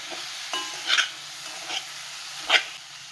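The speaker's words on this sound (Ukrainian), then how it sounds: "Все ретельно перемішуємо знову зі спеціями." Chicken pieces and vegetables being stirred with spices in a pot for kulish, a quiet sizzle broken by a few scraping spoon strokes, close and unhurried.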